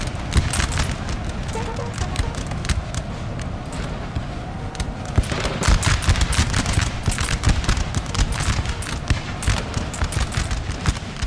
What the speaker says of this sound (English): it really feels good to get a nice volley, a full volley into enemy forces when they're not shooting back